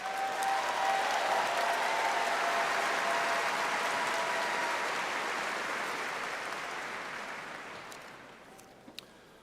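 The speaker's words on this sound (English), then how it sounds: "Please join me in extending another round of applause for our doctoral graduates" Sustained audience applause for doctoral graduates at a spring commencement ceremony, a broad, even roar of many hands clapping from a large crowd that gradually fades over about nine seconds, with a few isolated claps at the close.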